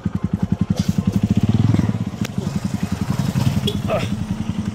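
A video game motorcycle engine putters with a rapid, regular throb, fairly close and loud, while voices talk over it.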